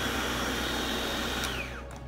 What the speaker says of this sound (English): Prepare all the ingredients accordingly and blend them into a fine paste.